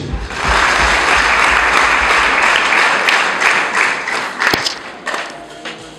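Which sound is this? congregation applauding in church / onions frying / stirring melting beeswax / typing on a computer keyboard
congregation applauding in church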